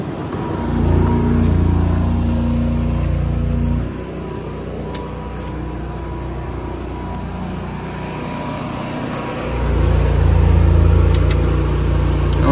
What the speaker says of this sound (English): we're overloading the generator but it still runs